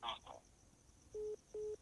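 Two steady electronic telephone tones sound in a row, each lasting about a fifth of a second, after a brief burst of voice at the start, with a quiet room behind.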